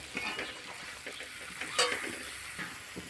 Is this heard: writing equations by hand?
no